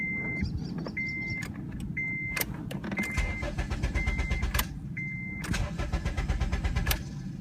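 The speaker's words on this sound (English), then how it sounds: "See how it just turns over, but it doesn't actually start?" A car engine cranks repeatedly on an unprogrammed spare key but never catches, the starter whirring in steady bursts while a high electronic warning chime beeps on and off throughout.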